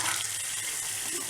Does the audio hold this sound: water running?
yes